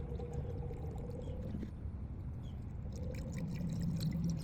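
Liquid coolant glugs steadily from a jug into the empty radiator of a wrecked Honda CBR1000RR under rebuild, a continuous low pouring wash throughout, close and moderately loud.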